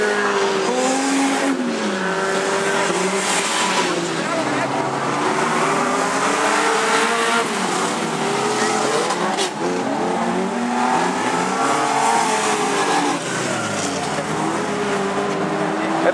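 Stock cars racing on a track at a Dutch national stockcar championship heat, with engines roaring and droning continuously, some tire squeal, and a commentator talking over the noise.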